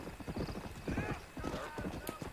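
Close, rhythmic clip-clop of a horse's hooves at pace in Red Dead Redemption, with a whinny partway through and someone talking over the hoofbeats.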